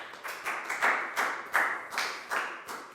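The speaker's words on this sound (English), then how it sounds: "a big round of applause for Pak Bung" A small class claps for a student in a Year 4 English lesson, a handful of near, distinct claps in a loose, uneven rhythm, fairly quiet and brief, with no talking.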